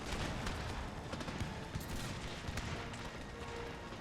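Crackling volleys of musket fire in the strategy game Empire: Total War, a continuous dense rattle of shots with distant booms blended into loud battle noise.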